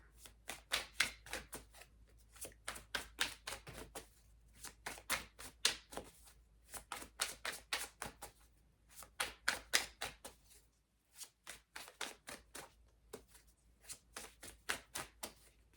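Tarot cards are shuffled by hand in quick, crisp riffling bursts that repeat in a steady rhythm with short gaps, quiet and close, with no talking.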